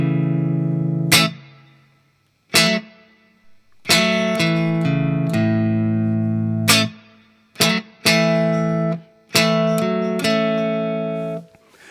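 Soul groove chords played on a keyboard-type instrument in short bursts, some held and some cut off crisply, with clean gaps of silence between phrases.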